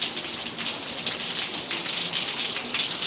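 Steady rain falls at night, a dense continuous hiss of drops hitting surfaces, even and unbroken with no voices.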